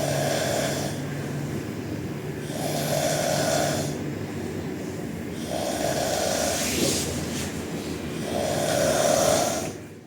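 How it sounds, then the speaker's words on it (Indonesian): Loud snoring from a sleeper in a capsule hostel, four long rasping snores at steady intervals with heavy breathing between them, close and continuous throughout. "kalau nginep di penginapan kapsul tuh ada yang ngorok kalau kenceng tuh kayak gini nih"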